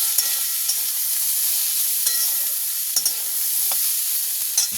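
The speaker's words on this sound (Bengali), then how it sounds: "দিয়ে এটাকে আমি এবার আরেকটু ফ্রাই করে দেবো" Peas and four or five green chilies fry in a pan with a steady, bright sizzle, broken by occasional scraping stir strokes, close and fairly loud, with no voices.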